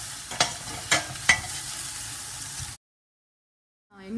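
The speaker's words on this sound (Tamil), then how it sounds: "கேப்சிகமையும் சேர்த்து நான் இதில் வதக்கிக்கிறேன்" Onion and capsicum sauté in a pan, giving a steady sizzle with three sharp stir scrapes near the start. The sound cuts to silence partway through and then returns faintly.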